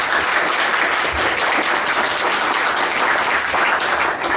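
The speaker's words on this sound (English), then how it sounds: "If you can join me in a little round of applause." Audience applause after thanks to partners at a Boston career pathways event, a dense, steady round of clapping that holds at a fairly loud level for the whole stretch with no talking over it.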